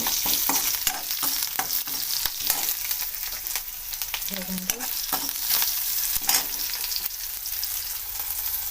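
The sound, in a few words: onions being stir-fried until brown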